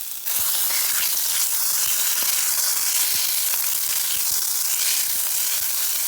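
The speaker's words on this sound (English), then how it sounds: "Next, we're gonna add in a tablespoon of tomato paste." A tablespoon of tomato paste sizzling in olive oil in a pot, making a steady, loud, hissing fry with small crackles and pops throughout, close up and without talk.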